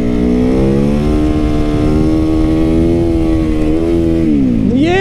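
A motorcycle rides off-road on a leafy trail, its engine loud and close with a steady, throbbing drone that rises and falls slightly with throttle, then drops off at the end.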